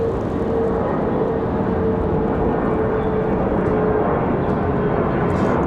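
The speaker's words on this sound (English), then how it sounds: "Man, this CRJ leaving like a rocket." CRJ regional jet taking off from Raleigh-Durham airport, a steady broadband roar with a faint whining tone, loud and continuous, with no voices.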